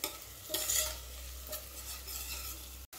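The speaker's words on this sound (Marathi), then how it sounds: "ते पण आता व्यवस्थित यामध्ये परतून घ्यायचं आहे आणि थोडीशी कलर यावा म्हणून थोडीशी मी इथे हळद घातलेली आहे कांद्यामध्ये" Onions with a pinch of turmeric are sautéed in a pan for a mutton dish, giving a faint, steady sizzle with a few scraping stirs of a spatula; quiet and close, no voices.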